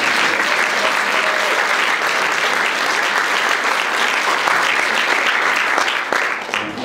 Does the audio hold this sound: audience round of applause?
yes